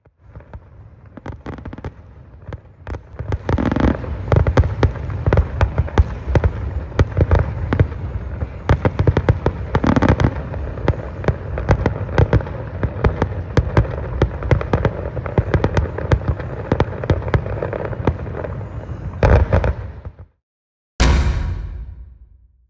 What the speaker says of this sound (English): get a better view of the traditional last night fireworks display